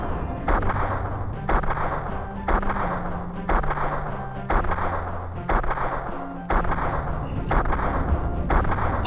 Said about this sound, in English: when you fail, it's just the sound of gunshots